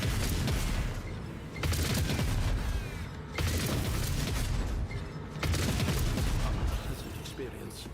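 Four turrets firing in the game Grim Dark, sending repeated heavy blasts and booming volleys in roughly regular waves, loud and close, with a voice talking underneath.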